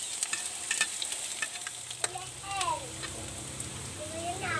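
Onion frying in a pan with garlic for frog tinola, a soft steady sizzle with scattered stirring clicks and scrapes, fairly quiet and close.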